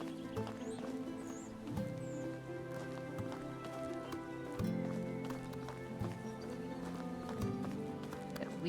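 Footsteps walk along a road in the medieval survival game Medieval Dynasty in an even, repeated rhythm, moderately loud over soft ambient game music.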